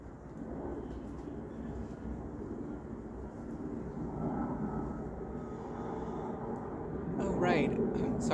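An airplane passes overhead as a steady low rumble that swells slightly over several seconds, with a voice briefly heard near the end.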